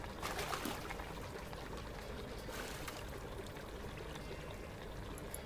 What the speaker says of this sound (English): Then we're gonna rinse them in hot water.